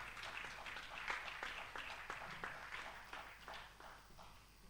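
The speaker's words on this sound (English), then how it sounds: "Please give him a round of applause." Audience applause at a 2019 conference, steady crowd clapping at moderate volume that gradually fades toward the end, with no talk over it.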